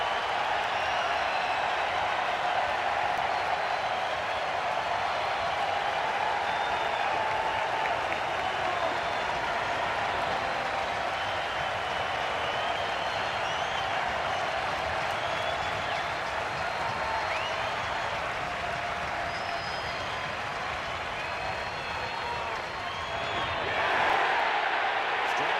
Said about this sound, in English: Let's hear this crowd coming through in an 0-2.